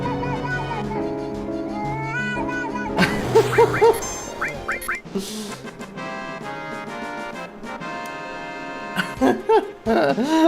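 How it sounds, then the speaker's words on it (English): Auto-tuned cat meows set to music in a Final Fantasy VII let's play, a string of pitched, warbling sung tones with musical backing that rise and fall over the whole stretch, loud and close. "Auto-tune cat singing."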